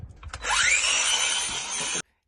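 A chainsaw revs up with a rising whine and then runs at a steady, loud buzzing drone for about a second and a half before cutting off abruptly, with no talk over it.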